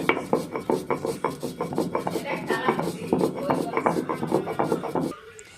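A stone grinder scrapes rhythmically as cumin, coriander, fennel and chili are ground on a flat grinding stone for mango pickle, with quick repeated back-and-forth strokes close by that stop abruptly near the end, soft voices faintly underneath.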